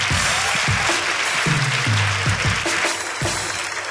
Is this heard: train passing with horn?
no